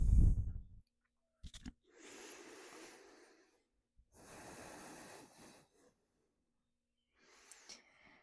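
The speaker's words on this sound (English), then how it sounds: "Take a full breath in here and exhale" A slow, deep breath in and out during a yoga session on lower-body strength and mobility: two long, soft airy breaths close to the mic with a short sniff before them, in an otherwise quiet room.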